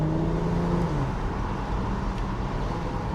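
Porsche Macan Turbo in Sport Plus mode, windows down on a slower road, with a low, steady engine burble and drone near and constant, a brief higher tone early on.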